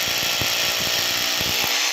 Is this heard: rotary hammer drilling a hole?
yes